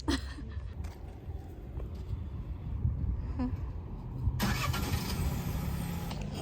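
An unusual car with its engine running in a street in Anstruther, a steady rumbling idle heard fairly close, changing in tone partway through, with no talking.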